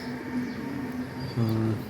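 A pigeon in a pigeon coop cooing close by, a steady low throaty coo that swells louder toward the end over a faint background hum.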